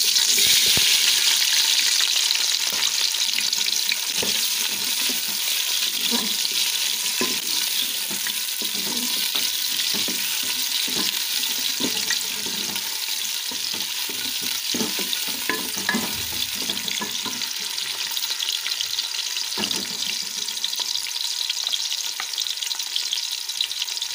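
Onions sizzle and crackle in hot oil for a long stretch, with occasional stirring clatter and no talking.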